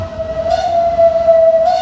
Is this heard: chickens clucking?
no